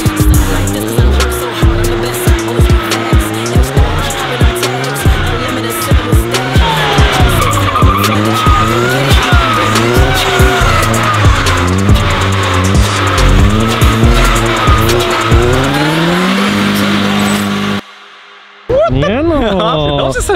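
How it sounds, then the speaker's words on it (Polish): A supercharged car's compressor whine blends with a whining power steering pump, heard as loud, continuous rising and falling engine and whine tones with a short drop near the end, while people talk over it. "Tutaj akurat dźwięk kompresora miesza się z wyjącą pompą wspomagania."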